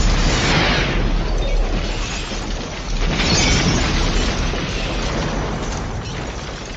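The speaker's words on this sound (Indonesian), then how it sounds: "bom itu pun meledak dan menewaskan semua petugas termasuk Harry" A bomb explodes in a film scene, a loud, broad roaring blast that rumbles on for several seconds with crackling debris noise and no voices.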